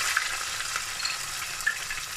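Onions frying in four tablespoons of oil with whole spices for aloo baingan sabzi, an even close sizzle with faint spoon scrapes and small pops throughout.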